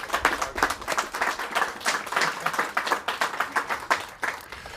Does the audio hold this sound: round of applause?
yes